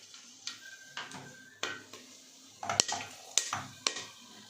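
Whole garam masala tempered in hot oil in a pan gives faint crackles and sizzle, broken by several sharp clinks and scrapes of a utensil against the pan, close and quiet with no talk.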